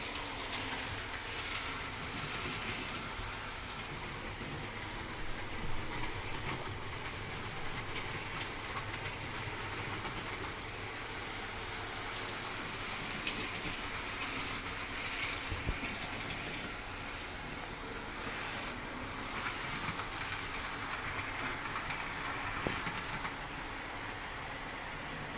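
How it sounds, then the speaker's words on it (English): A model train runs on a layout in a railway shed, led by locomotive 56011 with two other engines pushing, producing a steady, faint rolling rumble with soft clicks of wheels over track joints throughout. "So we've got 56011 backing the train, and Smoky Joe and the Caledonian engine pushing."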